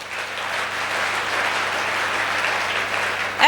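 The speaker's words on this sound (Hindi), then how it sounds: "तो मैं चाहूँगी इनके लिए जोरदार ताली।" An audience at a speech event claps loudly and continuously, a dense, even roar of applause holding steady before a brief louder burst at the very end.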